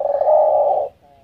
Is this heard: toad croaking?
no